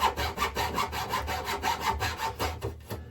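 A small junior hacksaw cuts through a wooden board with quick, regular back-and-forth rasping strokes, about three per second, close and clear, slowing slightly at the end.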